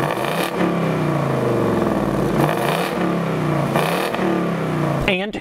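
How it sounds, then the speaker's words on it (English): A 2018 Ford Mustang GT V8 exhaust in quiet mode revs up repeatedly, its deep rumble climbing and falling in pitch across several throttle blips, loud and close, ending with a sharp mechanical clatter. "Here is the exhaust in quiet."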